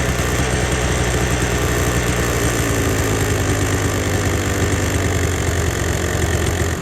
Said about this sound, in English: just as I suspected, it's idling higher